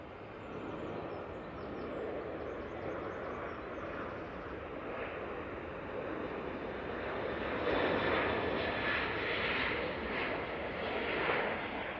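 An airliner landing at Manchester Airport gives a steady, broad jet engine roar that swells slightly louder toward the end, continuous throughout with no talk.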